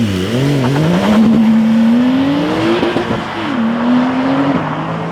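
A manual Porsche 911 992 GTS launches hard from a standstill in Sport Plus, its engine note climbing steadily through a long, loud rising sweep with a brief dip at a gear change, then pulling on, close and continuous.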